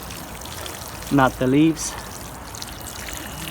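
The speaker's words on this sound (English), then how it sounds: "And the last thing you're gonna do is you're gonna water it. Water the base, around the base of the plant," Water pours steadily around the base of a papaya plant in garden soil, a soft continuous trickle under a voice, which briefly speaks over it.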